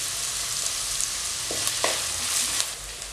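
Curry leaves sizzling in hot oil with onion, ginger and green chilli for a Kerala-style pomfret curry, a steady close hiss with a couple of brief spatters and light stirring.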